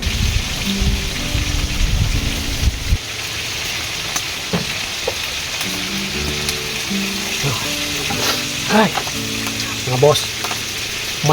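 Fish marinated in vinegar, garlic, pepper and salt fries in hot oil before going into a tamarind sinigang, giving a steady, close sizzle. Faint tonal sounds and brief pops rise over the constant crackle.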